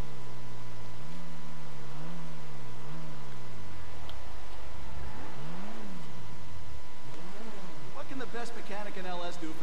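A car engine in GTA 5 revving and easing off in waves while pulling into the LS Customs garage, pitch swinging up and down several times, with a person talking throughout and a steady tone underneath.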